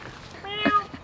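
A cat meows once, close and clear, on a farm in a Himalayan valley in Himachal, over quiet background ambience.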